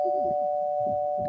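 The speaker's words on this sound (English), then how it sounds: "How about a doorbell?" A doorbell sound effect, a steady electronic ding tone held throughout, with low muffled voices beneath it.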